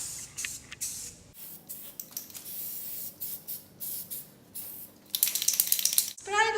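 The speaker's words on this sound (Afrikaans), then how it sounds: "En nou gaan ons die raam met die ligte blou verf." Wire mesh and a wooden frame being coated with light blue aerosol spray paint, short hissing bursts of the can repeating close by, with a louder, longer spray and a rattle of the can near the end.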